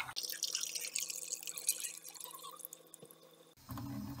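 Water runs steadily from a tap into a container for several seconds, with dripping and splashing, then cuts off near the end and leaves a quieter, different room tone.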